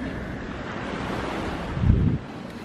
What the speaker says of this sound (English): We're on the beach.